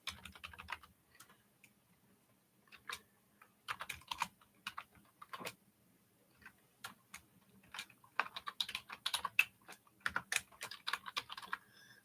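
Quiet, uneven clatter of keys on a computer keyboard, coming in short bursts of typing with brief pauses between, close and soft.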